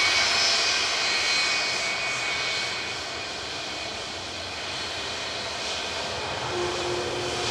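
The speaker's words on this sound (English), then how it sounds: "Departing now is Jet2 757 to Palma de Mallorca, GLSAT with flight 1775." A Jet2 Boeing 757 departing Manchester Airport produces a loud, sustained jet engine roar with a thin whine, strongest at the start and easing slightly, with no talking.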